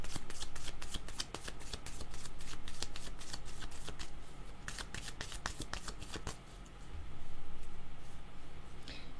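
Playing cards are riffled and shuffled close up for a card reading, rapid crisp flutters in several bursts with brief pauses between them, and a soft flick as a card is drawn.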